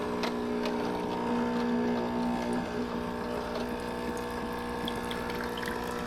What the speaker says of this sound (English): Machine's going to rinse.